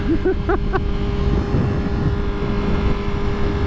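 Engine of a Yamaha R6 sport motorcycle while riding, a loud continuous drone with a steady whine, with a brief rising harmonic burst at the start and wind rush throughout.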